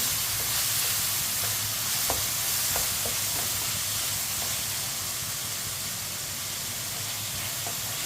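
Finely chopped tomatoes and green chilies sizzle steadily in a hot pan with a constant close hiss and occasional faint stirring clicks.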